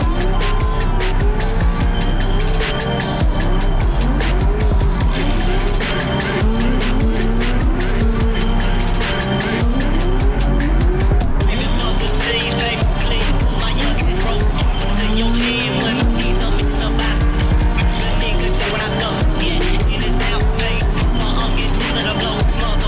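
A 500 hp drift car howls around a slow, tight track, its engine revving hard through repeated rising and falling pulls while the tyres squeal and skid continuously, loud and close throughout.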